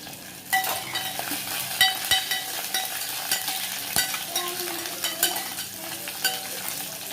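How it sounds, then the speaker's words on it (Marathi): Curry leaves, cumin and garlic crackling in hot tempering oil for a garlic tadka on toor dal, with a dense close sizzle that jumps up suddenly, scattered pops and spoon clinks while stirring, no speech. "त्याच्यामध्ये आपल्याला कढीपत्ता टाकून घ्यायचा आहे"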